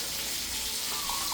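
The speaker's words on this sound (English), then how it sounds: "And I'm going to add more water." Water runs steadily from a tap into cooking food, a continuous close hiss and splash with no talking.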